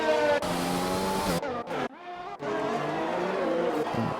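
Formula racing cars in the Singapore Grand Prix of the game Grand Prix 2, with a sustained high engine whine and gear-change pitch sweeps, a sharp cut and a brief quiet gap in the middle, then the engine picks up again.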